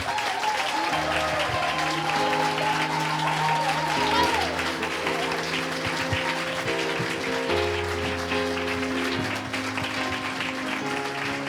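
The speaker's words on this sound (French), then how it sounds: "Est-ce qu'on peut encore les applaudir bien fort?" An audience at a Christmas show claps loudly and steadily over sustained music tones, with a faint voice rising briefly above the applause early on.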